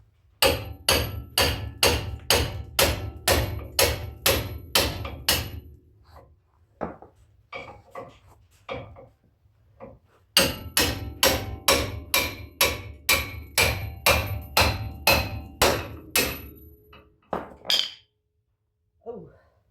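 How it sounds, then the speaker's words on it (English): A big hammer pounds steel on a 1971 El Camino in two loud, close bursts of rapid, evenly spaced blows, with a pause between them where someone talks. "Need a bigger hammer."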